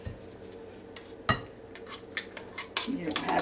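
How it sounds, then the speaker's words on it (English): Apple pie muffin batter with canned apple pie filling being mixed in a bowl, with a utensil clinking and scraping against the dish in irregular knocks, one sharp clank, then a quicker stirring rattle. "Just mix it all together"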